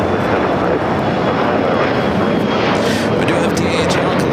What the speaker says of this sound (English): the 777 freighter heading down for a south side takeoff